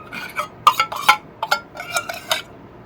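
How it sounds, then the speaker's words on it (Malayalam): A metal spoon stirs sugar and honey in a bowl, giving a run of sharp scraping clinks and knocks against the sides in irregular bursts, close and fairly loud, with no voices. "സ്പൂണിട്ട് ഇടക്കുമ്പോൾ ഒരു ഒച്ച ഭയങ്കര ഒച്ചപ്പാടല്ലേ"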